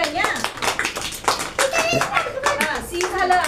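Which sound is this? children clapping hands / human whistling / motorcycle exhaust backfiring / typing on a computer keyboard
children clapping hands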